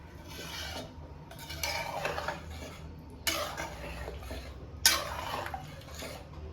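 A spoon scrapes and clinks inside a pot of simple Kannada-style chicken curry (chicken saaru) with water added, giving several uneven stirring strokes with sharper metallic scrapes close by and no talk.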